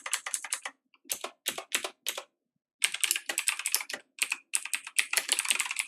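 Rapid bursts of computer keyboard typing, close and crisp, with short pauses between runs of keystrokes and no talk.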